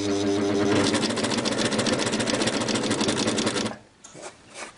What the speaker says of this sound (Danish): Og når jeg skal sy sådan en kædesøm, så vil jeg gerne være sikker på, at den syr ordentligt, når jeg kører ind på mit stof.